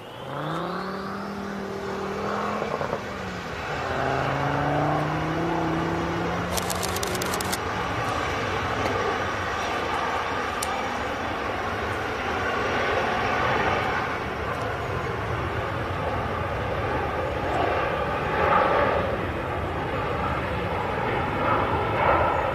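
An aircraft departs from runway 23 right at Manchester Airport, its engine tone climbing and swelling into a sustained, loud roar that carries on steadily as it takes off and climbs away.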